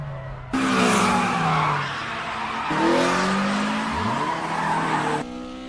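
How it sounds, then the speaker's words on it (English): Car tires squeal and skid in drawn-out screeches during a nighttime drift race, engines revving underneath, with a couple of separate long skids. "I just gotta skid the back wheels early and let all four of them drift."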